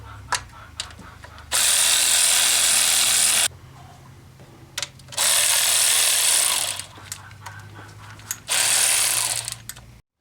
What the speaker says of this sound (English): I've been using this swivel head ratchet wrench a bit